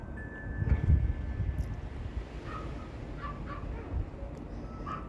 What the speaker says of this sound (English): forgive me if you hear dogs barking